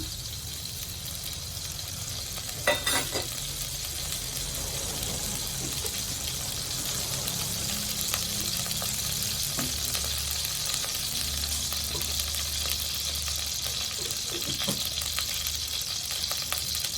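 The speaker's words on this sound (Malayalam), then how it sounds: "ഒരു ചട്ടി അടുപ്പിൽ വെച്ചിട്ടുണ്ട് വെളിച്ചെണ്ണ രണ്ട് സ്പൂൺ ഒഴിച്ചു കൊടുക്കാം" Coconut oil heats and sizzles steadily in a clay pot on a stove, a constant close frying hiss with a few light clinks and utensil taps, for a Kerala fish curry.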